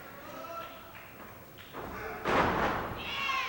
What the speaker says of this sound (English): Big shoulder tackle.